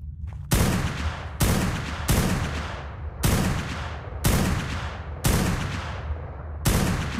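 Gunfire at a level 100 creature in Ark on the Fjordur map: seven loud, sharp shots fire at a steady, unhurried pace, each cracking and then fading briefly before the next, with no voices.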